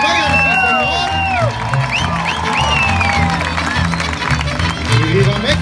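A crowd at an outdoor summer bowl concert claps, whoops and cheers for a mariachi band, loud and close, with shrill whistles and shouts rising over steady applause and voices mixed in.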